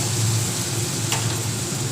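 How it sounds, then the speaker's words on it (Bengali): Chopped large onion frying steadily in a pan while being browned for a rohu fish dish, a dense continuous sizzle close by with no talking. "এবার পেঁয়াজটা আমি একটু সময় ভাজা হতে দেবো একটু ব্রাউন কালার হওয়া"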